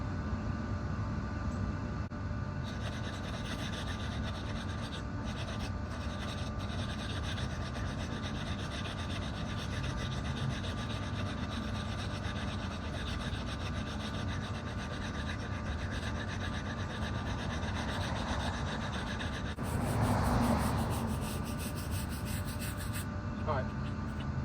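Steady rasping rub of abrasive against the wooden edge of a homemade skateboard ledge, continuous and close for most of the span, with a brief louder scrape near the end.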